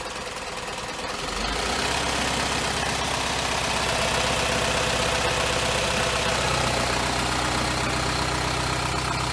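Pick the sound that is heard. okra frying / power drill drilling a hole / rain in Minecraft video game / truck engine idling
truck engine idling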